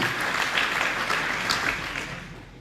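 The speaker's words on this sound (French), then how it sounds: "on peut applaudir bien fort Fukushima" Warm, sustained applause from an audience at a film and music festival awards ceremony, filling the room for a few seconds and then tapering slightly.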